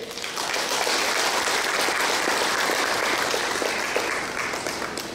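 A large forum audience applauds in thanks to Minister Xin, a dense, steady wash of clapping that swells in quickly, holds loud and even for several seconds, then eases slightly at the end.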